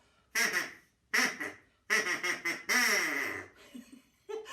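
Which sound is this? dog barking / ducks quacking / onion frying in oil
ducks quacking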